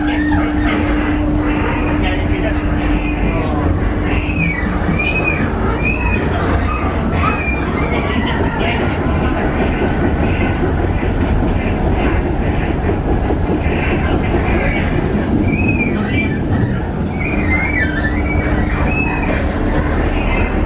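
A Konstal 114Na tram runs on rails through Gdańsk on line 9, a loud continuous rolling rumble with rhythmic wheel clatter and recurring high metallic squeals from the wheels, with faint voices mixed underneath.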